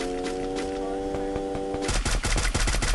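Gunfire aimed at a car in the Free Fire mobile shooter game: rapid bursts of sharp shots over a sustained tonal hum, then a denser volley of heavy, booming reports toward the end.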